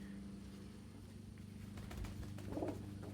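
A pigeon coos softly in low, rounded notes near the end, with faint background hum and a few scattered clicks throughout.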